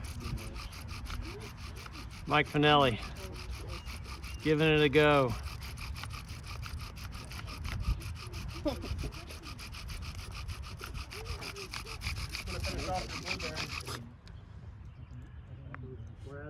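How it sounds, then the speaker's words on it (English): A 16-inch honeysuckle bow drill turns an ironweed spindle on a white pine board outdoors, making rhythmic back-and-forth rubbing strokes that grow more intense. People talk at times, and a bird calls faintly. "This is ironweed on white pine with Brad's 16-inch honeysuckle bow drill"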